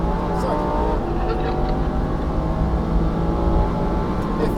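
Lamborghini STO on the Lohéac circuit, engine pulling hard under full throttle: a loud, steady in-car drone throughout, with a voice talking over it.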